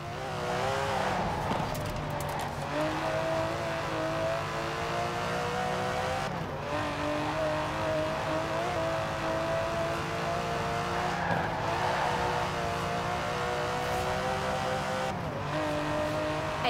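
An Aston Martin DB11 with a 5.2-litre twin-turbo V12 in the Forza Horizon 4 video game revs hard through repeated gear changes, its engine note rising and dropping in a loud, continuous run with brief tire squeal.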